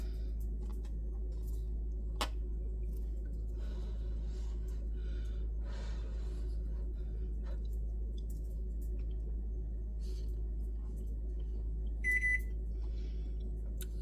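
Microwave oven heating hamburger meat, a steady low hum running throughout at moderate level, with a few faint clicks and a short beeping near the end.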